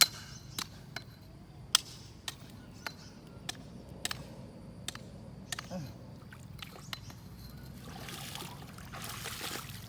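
A wooden stake is hammered into the ground beside a rice paddy, with a tractor stuck in mud nearby. Sharp, irregular knocks ring out at a moderate distance, mixed with faint voices and outdoor noise.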